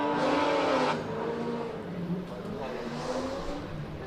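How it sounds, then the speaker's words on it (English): A Porsche GT3 race car climbs a hill-climb course at a motorsport event, its engine note rising and falling at a distance beneath an announcer's commentary. "we've got a Porsche GT3"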